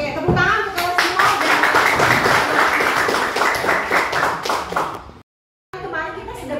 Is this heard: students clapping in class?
yes